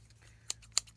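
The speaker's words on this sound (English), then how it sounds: "So with some scissors," Scissors snip through paper in three short, crisp cuts spaced evenly apart, close and fairly quiet over a low steady hum.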